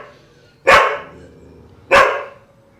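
A dog gives two loud, sharp barks about a second apart, close by, with quiet in between and no speech.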